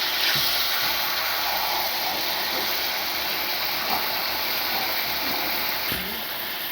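Meat hitting reddened fried onions in a pan gives a loud, steady broadband sizzle that holds without letup, with a few faint clinks in the background.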